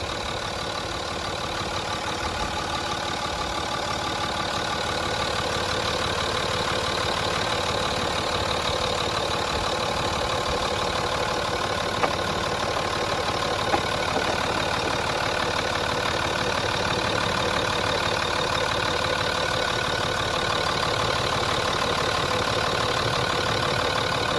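A Ford engine with a faulty high-pressure fuel pump idles steadily, a continuous mid-pitched hum with a faint ticking knock, close and fairly loud throughout with no talk.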